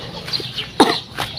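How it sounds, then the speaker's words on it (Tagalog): Several chickens cluck nearby in short, irregular calls, with one louder squawk partway through. Nobody talks. "ako ang taga-alaga dito sa mga manok"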